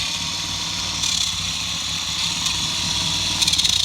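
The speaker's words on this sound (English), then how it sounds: "You hear the different pitch in the engine sound here. That's me going from low to turbo." Small electric motor of a vintage Tyco Turbo Hopper RC buggy whining steadily, the high buzzing tone shifting as it switches from low speed to turbo, close and continuous with brief rattles.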